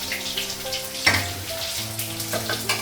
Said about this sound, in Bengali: আর এদিকে হচ্ছে মাছটা ভাজছি